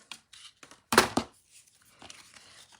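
Satin ribbon being snipped with ribbon scissors during card making, a brief sharp cutting burst amid soft rustling and handling noises, close and fairly quiet.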